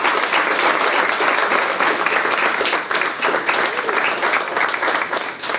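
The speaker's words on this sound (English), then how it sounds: "So I just want to give her one more round of applause." A gathered crowd applauds at a McDonald's fundraising recognition event in East Chicago, a sustained round of loud, dense clapping that fades slightly toward the end, with a few voices mixed in.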